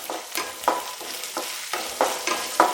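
Green chilli and a small piece of ginger are sautéed in a pan, soft sizzling broken by regular scraping stirs roughly every third of a second, quiet and close with no talking.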